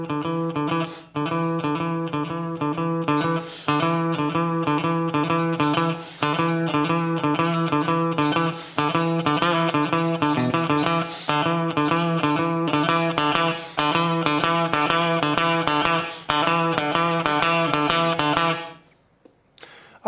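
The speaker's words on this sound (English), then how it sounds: "I'm going to play the first 8 bars of the song for you, and they sound like this" An electric guitar plays the opening eight bars of a riff, a loud, steady run of repeated muted notes with a slide and vibrato. The phrase repeats in even bars and cuts off at the end.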